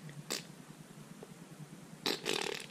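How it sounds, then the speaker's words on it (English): A person farting at home, two short bursts: a brief one early on and a longer rasping one near the end, fairly quiet against a low background with no talk. "Stop farting."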